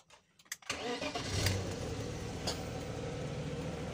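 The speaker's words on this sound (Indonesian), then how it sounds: "Ini kita sekarang mau coba nyalain mesinnya." A BMW E36 engine cranks briefly, catches and settles into a steady idle, heard close with no talking.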